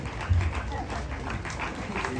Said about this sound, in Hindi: इसलिए तालियां बजती रहनी चाहिए।